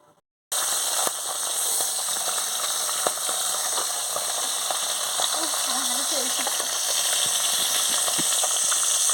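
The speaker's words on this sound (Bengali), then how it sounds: "তেল গরম হয়ে গেছে, আমি মাছ ভাজার জন্য ছেড়ে দিলাম।" Bata fish frying in hot oil in a wok: after a brief quiet start, a loud, steady sizzling hiss with crackles sets in and carries on close and unbroken.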